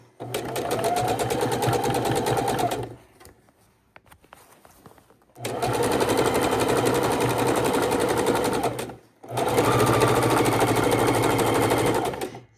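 A sewing machine stitches around a raw-edge appliqué heart on a scrappy quilted Valentine's Day table runner, running in three steady, close, buzzing bursts, with short quiet pauses between them for pivoting.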